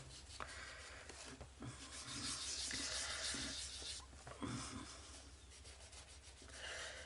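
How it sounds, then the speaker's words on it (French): A colored pencil is rubbed back and forth to blend color on a coloring-book page, making soft, quiet scratchy strokes in an uneven rhythm, close up, with no voices. "Alors je frotte bien, vous voyez, je frotte bien."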